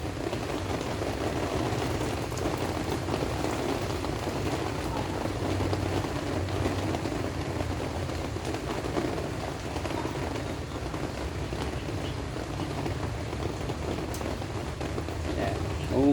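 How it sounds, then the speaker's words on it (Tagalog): Steady rain falls over a backyard vegetable garden with bitter gourd vines, a continuous even patter that holds at a moderate level for the whole stretch. "tumila ka po"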